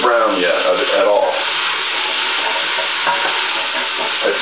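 Onions, celery and carrots sautéing in a soup pot, a loud continuous close sizzle and crackle with stirring scrapes throughout, no talking.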